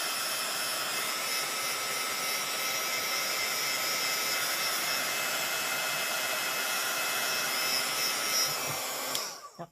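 Heat tool blowing onto wet paint spots, a loud, constant whooshing blower drone close up that runs for almost ten seconds before cutting off abruptly at the end, no talking.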